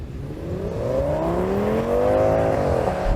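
Audi S8 cars launch hard in a drag race, engines roaring loud and close as the pitch climbs steadily through the revs, briefly dipping at a gear change and then rising again, with no talking.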